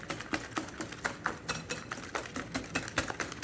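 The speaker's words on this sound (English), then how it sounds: "I'm just doing it by hand with a wire whisk instead of using a mixer" A wire whisk beats creamed butter, sugar and eggs for a raisin pie filling by hand in a bowl, giving a steady run of quick rhythmic clicks and scrapes, close and fairly loud, with no talking.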